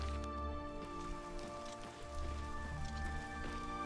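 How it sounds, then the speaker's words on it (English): Steady rainfall patters in the video game Oblivion Remastered, a soft continuous hiss of drops on surfaces beneath a quiet sustained musical drone, with no talking. "Is it raining? Ah, shit, it's raining."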